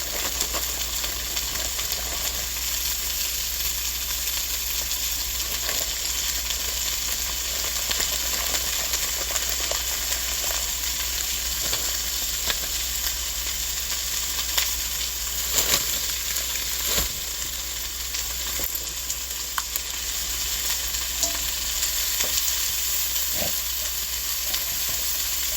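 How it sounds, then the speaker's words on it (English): Broccoli and corn stir-frying in a pan give a steady, close sizzle and hiss that runs throughout, with a few faint clicks and scrapes of stirring. "Stir fry got me quiet."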